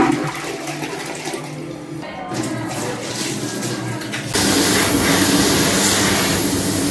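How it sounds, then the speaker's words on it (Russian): A toilet in the ladies' room of a Naples pizzeria flushes from a floor button, giving a loud, close rush of water that swells and keeps running for several seconds with no talk. "в дамской комнате кнопка смыва туалета находилась на полу"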